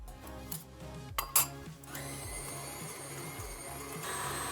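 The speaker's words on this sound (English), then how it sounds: "So basically, we're creaming the butter with the sugar" Electric mixer creaming butter with white and brown sugar for chocolate chip cookie dough: a few clinks and knocks at the start, then a steady whirring hum that carries on to the end, fairly quiet and with no talking.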